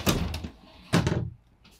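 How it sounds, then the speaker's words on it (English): A graphite black pocket door on a 2021 Keystone Sprinter Limited 330KBS travel trailer slides, making two short, close scraping bursts about a second apart before the trailer falls quiet. "You got pocket doors in that graphite black style."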